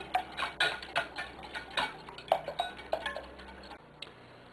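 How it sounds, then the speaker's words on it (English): Eggs beaten in a bowl for homemade pasta dough, a quick run of rhythmic clinking whisk or fork strokes against the bowl, close and fairly quiet with no talking. "So I'm going to beat these eggs. I'm going to beat them senseless."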